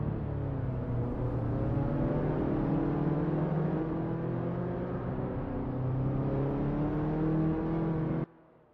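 A 1978 Saab 99 Turbo S1 roars steadily through a racing video game at Ahvenisto, the engine holding a sustained drone under load with gradual pitch shifts before cutting off abruptly near the end.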